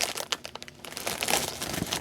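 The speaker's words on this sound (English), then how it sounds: "This is just the shipping plastic bag anyway." Plastic shipping bag being opened, crinkling and rustling in dense bursts of close, moderately loud handling throughout.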